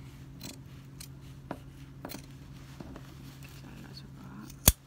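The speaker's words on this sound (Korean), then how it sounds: "그리고 시접을 잘라줍니다." Scissors snip through the seam allowance of a sleeveless dress's armhole during an alteration, giving a few quiet, spaced crisp cuts followed by one sharp, louder click near the end.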